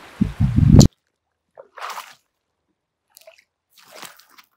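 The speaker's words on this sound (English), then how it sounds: "So let's flip some rocks and look for bugs." Rocks are flipped over in a stream: a wet, crunchy squish and splash, then quiet gaps broken by a few soft sloshes and drips.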